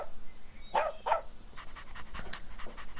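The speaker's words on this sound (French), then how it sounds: "sitting and bark, s'asseoir et aboyer en même temps." An animated cartoon dog avatar sits and gives a couple of short, close barks, followed by a quick run of panting breaths, with no voices present.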